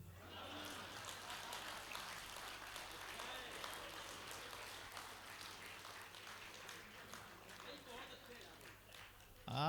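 Audience applause at a kavi sammelan poetry gathering: a thin, steady patter of scattered clapping that runs for the whole stretch without building, with a brief louder swell right at the end.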